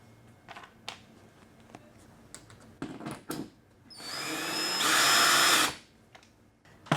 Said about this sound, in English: Now all we have to do is screw this into our drywall anchors.